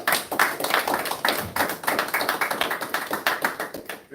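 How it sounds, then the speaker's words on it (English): A congregation at a temple service applauds its host, dense continuous clapping with sharp overlapping hand claps, loud and steady throughout, no voices over it. "Can we please give our host another round of applause?"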